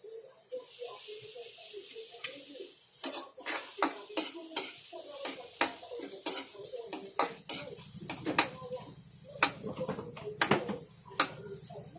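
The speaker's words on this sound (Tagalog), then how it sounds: "luto-lutuin lang natin yung sibuyas. Gusto ko lutong-luto ang sibuyas." Onions fry in a pan while a spatula repeatedly clanks and scrapes against the metal in irregular sharp strikes over a low sizzle; a person talks quietly in the background.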